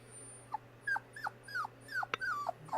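Puppy whimpering in a quiet room, a run of about eight short, high, pleading whines with small yips between them, close and soft over a faint steady hum.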